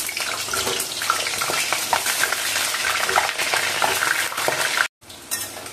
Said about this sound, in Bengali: প্রথমে আমি আলুগুলো ভেজে নিচ্ছি।